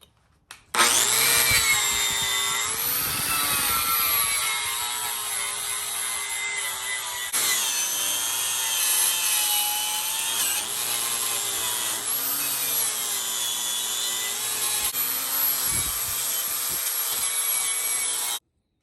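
A homemade He-Man Power Sword replica has its dull edge ground to a secondary bevel, giving a loud, continuous abrasive grinding rasp with slight shifts in pitch as the tool moves along the blade, close and uninterrupted.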